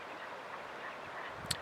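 Birds call in the Hunter-Fryingpan Wilderness of Colorado, with a single brief, sharp call near the end rising over a steady, faint outdoor hiss.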